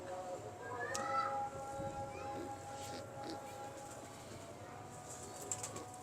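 Lakhi breed pigeons make faint, distant cooing and light chirps, with a soft stir of wings, against a quiet background hum.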